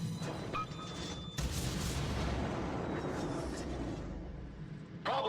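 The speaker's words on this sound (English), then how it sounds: "So I'm going to let him have another salvo and repair the flooding." The Soviet cruiser Murmansk fires a gun salvo in World of Warships: a sudden heavy boom followed by a long, rolling low rumble that slowly fades, with fainter game noise before it.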